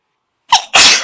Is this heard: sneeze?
yes